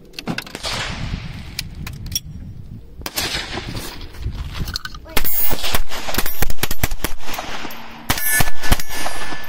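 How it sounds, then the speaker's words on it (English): Gunshots ring out during outdoor target shooting, sharp loud cracks firing in quick irregular succession with metallic clangs of hits on steel targets, and some voices in the background. "Nice shooting, Jayden."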